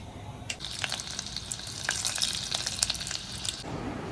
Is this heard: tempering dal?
yes